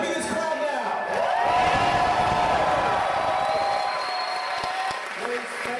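Crowd cheering and applauding at a California GOP Liberty Caucus gathering for Ron Paul, a loud, sustained roar of whoops and clapping that swells and holds throughout with no talk over it.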